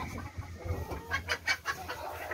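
Black Australorp and silkie chickens cluck nearby in a coop bedded with rice hulls, a quick series of short, close clucks over a quiet background.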